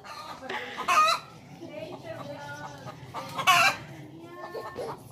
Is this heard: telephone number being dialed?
no